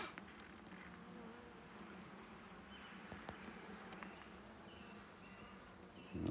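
Honey bees buzzing inside a first-year hive opened for inspection, a soft, steady, close drone of many bees with a few brief clicks and handling noises, no talking.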